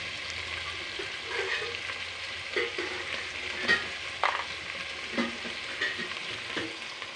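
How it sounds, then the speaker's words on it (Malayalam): Cardamom, cloves and garlic fry quietly in a pan for kappa biryani, a soft continuous sizzle broken by scattered scraping and clinking stirs, with no talking. "ഏലക്ക, ഗ്രാമ്പു, നമ്മൾ വെളുത്തുള്ളി ഇതിലേക്ക് തന്നെ ഇടുകയാണ്."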